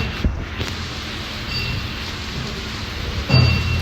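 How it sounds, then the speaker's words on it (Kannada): Steady rain falls outdoors with a constant broadband hiss. A few brief louder patters and gusts break through near the start and the end. "ಮಳೆ ಕಮ್ಮಿ ಆಯ್ತು"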